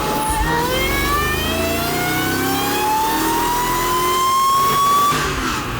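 A Mercedes E55 AMG wagon running ethanol blend revs hard on a dyno, its engine note climbing steadily in pitch through a long sustained pull, loud and close with constant roar and no talking.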